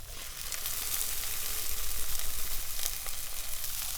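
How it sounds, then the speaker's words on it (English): Green beans sauteing in a hot pan, a steady close sizzle and crackle throughout with faint stirring. "There's the green beans. They're just sauteing in there."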